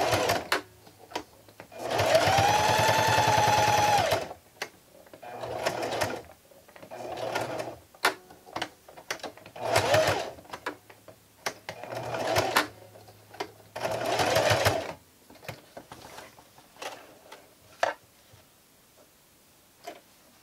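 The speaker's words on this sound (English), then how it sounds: "take it over to your sewing machine and sew a straight stitch on the" A sewing machine runs in several bursts, sewing a straight stitch along the sides of a fabric face mask, with short clicks and handling noises in the pauses between runs.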